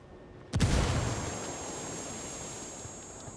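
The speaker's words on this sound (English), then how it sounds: "Looks like they heard that explosion." A thrown frag grenade in the video game Ghost Recon explodes in a sudden sharp blast, followed by a long, fading rumbling roar with a faint high tone lingering.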